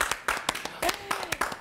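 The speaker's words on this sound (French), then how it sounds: "on peut l'applaudir." A short burst of clapping, sharp separate claps from a small group, fairly close, with a voice faintly underneath.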